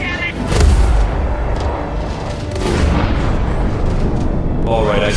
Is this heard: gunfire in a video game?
yes